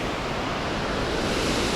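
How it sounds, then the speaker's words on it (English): Water rushes steadily near a dam and power station on Lake Taupō in New Zealand, a broad, constant wash of flowing water with no voices. "There's some water flowing here."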